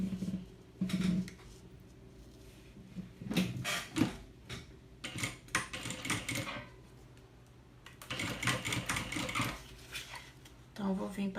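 A sewing machine runs a seam through a thermal lunch bag, stitching the fabric, insulation and lining layered together. It comes in short, close, rattling bursts separated by pauses and handling noises.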